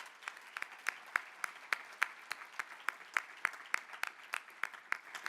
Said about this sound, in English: Please join me in recognizing Macy with a round of applause